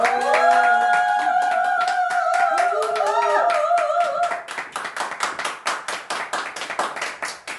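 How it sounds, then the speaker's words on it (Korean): Audience applause welcoming a speaker at a Korean business presentation, a dense run of sustained clapping that thins toward the end, loud and close, with musical tones underneath at the start. "모실 때 큰 박수로 환영해 주시기 바랍니다."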